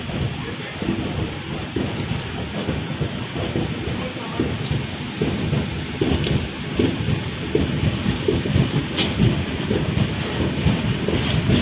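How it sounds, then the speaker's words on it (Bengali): Light rain falling at a railway station at night, a steady broadband patter and hiss with occasional low rumbles underneath. "স্টেশনে হালকা হালকা বৃষ্টি পড়ছে এখন"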